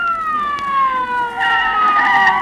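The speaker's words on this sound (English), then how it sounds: "Here comes the ambulance." An ambulance siren wails with sliding, sustained tones, rising in intensity as it approaches, loud and continuous throughout.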